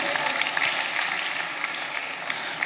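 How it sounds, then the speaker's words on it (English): An audience at a book launch and media anniversary celebration claps steadily, a dense, even wash of applause sustained throughout without a clear peak. "Round of applause once again."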